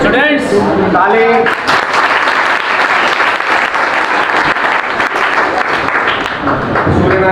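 Students clap together at a junior high school seminar, a loud, dense burst of applause that fills the room steadily from start to finish, with voices faintly mixed in.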